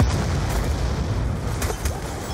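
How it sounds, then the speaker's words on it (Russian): Heavy explosion of a ship in the Call of Duty Black Ops 2 video game, a loud low rumbling blast that rolls on for a couple of seconds with debris-like crackle on top. "Депал взрывает корабль!"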